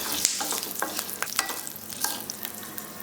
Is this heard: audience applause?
no